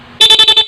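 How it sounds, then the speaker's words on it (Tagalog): A stock car horn sounds in a quick burst of about five rapid pulses driven by an interrupter relay, loud and close. "Stock horn mga lods ha."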